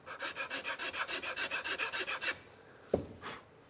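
Rhythmic rasping of a file lightly worked across the end of a wooden tenon, about a dozen quick even strokes close up, followed by a short pause and a single dull knock.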